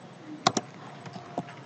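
Typing on a computer keyboard, a few sparse, close key clicks with a quick double tap near the start and a single later stroke.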